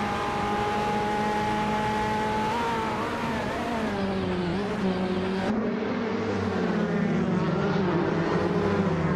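2016 Ligier JS P217 LMP2 race cars racing at Eastern Creek, a loud sustained engine roar with shifting pitch as the cars accelerate and pass, with no talk.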